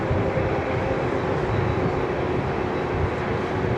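An airliner's GE CF6 jet engines rumble in a steady, loud roar as it taxis close by at night, a broad continuous wash of engine noise without voices.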